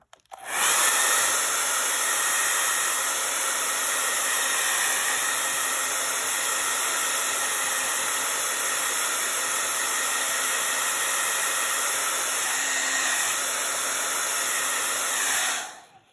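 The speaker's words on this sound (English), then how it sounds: "I'm going to blow it dry." A hair dryer runs continuously at close range, drying red paint with a steady, loud whooshing roar from start-up to shut-off.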